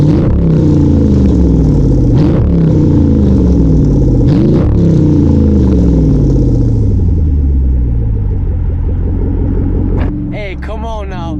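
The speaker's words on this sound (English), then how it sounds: "I love this exhaust." Jeep SRT8 with its mid muffler deleted, revving in repeated loud surges with a deep throaty exhaust roar that swells and settles back to a rumbling idle, close by, with a voice briefly heard near the end.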